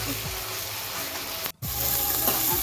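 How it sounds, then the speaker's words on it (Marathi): Garlic fries in a pan for chole bhature, making a close, steady sizzle that cuts out for a split second and then resumes. "आता आपण भाजूया हे थोडं लाल होत"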